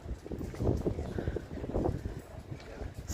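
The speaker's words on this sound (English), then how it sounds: "The sky is so beautiful today, but it's a bit windy." Steady wind in the town of Faversham, Kent buffets and rumbles across the microphone in gusts, with a low roaring noise throughout and no clear speech.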